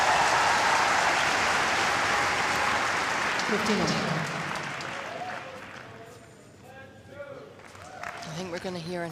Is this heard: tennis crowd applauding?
yes